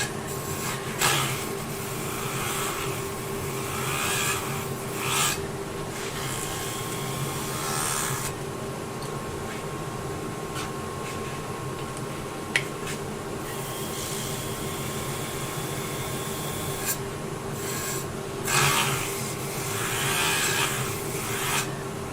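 Sandpaper rubs against a wooden bowl spinning on a lathe, a steady rasping hiss over the machine's continuous hum, with a few louder swells and pauses as the paper is pressed and shifted, alone without talk.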